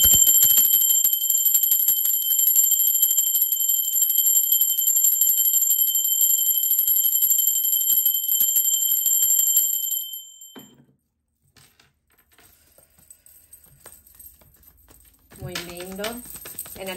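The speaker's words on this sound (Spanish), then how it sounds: "Ahora sí, utiliza la campana." A hand bell rings with a sustained, bright metallic tone that holds steadily for about ten seconds, then cuts off into near silence before a brief voice is heard faintly at the end.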